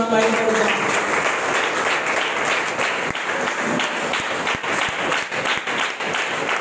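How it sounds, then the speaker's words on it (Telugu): Steady applause from a large church congregation at Sunday worship fills the whole stretch, dense and continuous, with a few sharper individual claps standing out near the end. "చప్పట్లు కొట్టి"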